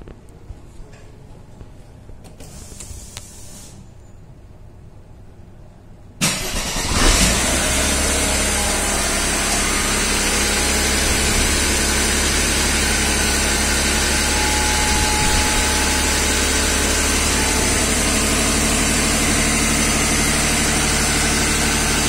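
A Mercedes 300E-24 with an M104 engine on Megasquirt with coil-on-plug wasted spark is cranked, catches abruptly and settles into a loud, steady idle close by; quiet background first, no talking.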